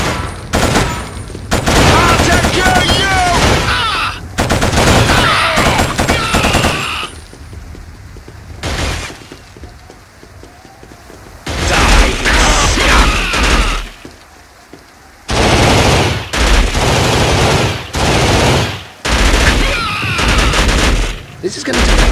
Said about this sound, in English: This is going to take forever with your shooting.